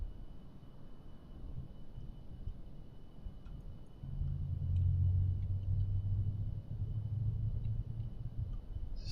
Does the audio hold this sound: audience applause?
no